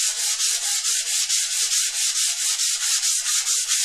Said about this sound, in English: Well, it's cedar, so it isn't too bad to sand.